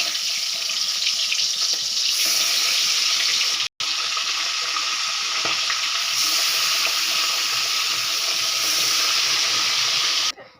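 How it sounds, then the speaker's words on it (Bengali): Small hilsa fish fry in hot mustard oil with a loud, steady, close-up sizzle. The sizzle cuts out briefly at one point, then hisses on without any talking. "দেখুন তেল গরম হয়ে গেছে, মাছগুলো আমি ভেজে নেব।"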